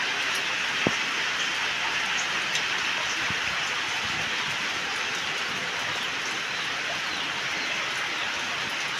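Steady rain falls on an avocado tree and surrounding leaves outdoors, a dense continuous patter with a few louder drops and thumps near the start, even and moderately loud throughout with no talking.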